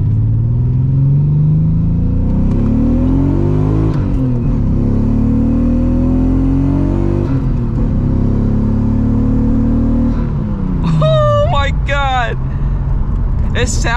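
A straight-piped Nissan R34 Skyline engine idles and revs with a deep, raspy rumble, pitch rising and falling in loud close swells; a voice speaks briefly near the end over the engine.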